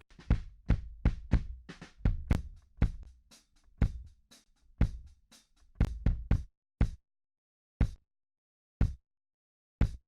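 Punchy kick drum hits, tightly gated so each thump cuts off abruptly into silence; a busy run of beats thins out to a few isolated hits.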